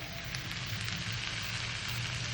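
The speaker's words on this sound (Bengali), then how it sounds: "1 চামচ দিয়ে দিচ্ছি ঘি" A spoonful of ghee added to a kadai with green peas and spice masala for a cauliflower curry sizzles in a soft, even crackle, fairly quiet and steady throughout with no talk.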